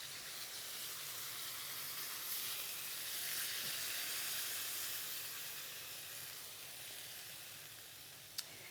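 Soy sauce chicken wings in cola, sizzling and hissing steadily in a pan, a soft, even fry with a faint rise and fall and a small tap near the end, no voices.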